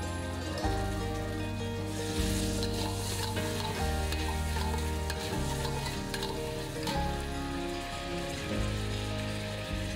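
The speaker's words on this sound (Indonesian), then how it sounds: "Baru kemudian kita masukkan bawang putihnya dan juga bawang merahnya." Garlic and shallots sizzle steadily in hot spice paste for a shrimp dish in garlic butter sauce, with stirring. A continuous frying hiss runs under steady background music, with no talking.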